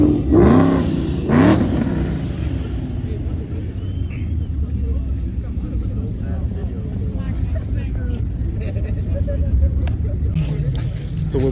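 During a rev battle at a car meet in Draper, Utah, a car engine revs in two sharp blips close by, then settles into a steady rumbling idle. Crowd noise and talking run underneath.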